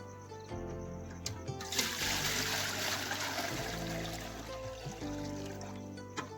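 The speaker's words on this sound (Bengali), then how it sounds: "চলো এবার জলটা দিয়ে দিই" Water is poured into a cooking pot set on a small stove, a steady splashing pour lasting several seconds, moderately loud, over a low background hum with a few faint knocks.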